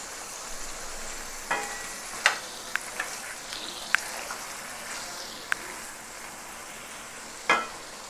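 Chopped onion, capsicum and tomato hit frying chicken in a hot pan, setting off a steady sizzle broken by scattered sharp crackles and spatters, close and fairly loud, with no voices.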